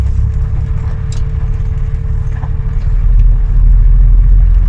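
Bristol VR double-decker bus, registration PKE809M, with a steady low diesel engine drone while driving, constant and close throughout, growing slightly louder toward the end, with no talk.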